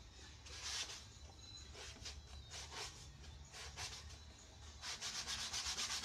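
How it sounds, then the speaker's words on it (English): Sandpaper rubs back and forth over wood in repeated rasping strokes, steady and close, with no voices. "Going to be a bit more forceful with this sanding now"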